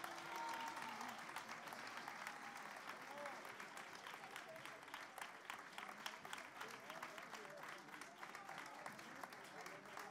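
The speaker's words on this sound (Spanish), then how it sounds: "Fuerte aplauso para él." A crowd applauds at a children's carnival awards in Almería, sustained, fairly quiet, even clapping from many hands that continues steadily throughout without a break.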